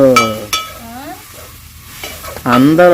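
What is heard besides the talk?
onion pieces sautéing with salt in a pan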